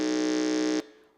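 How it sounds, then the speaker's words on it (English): A quiz contestant's electronic buzzer at a school science and maths quiz sounds a steady tone loudly for just under a second, then cuts off abruptly, leaving a faint ringing tail. "we'd like to hear the buzzers of each of the schools"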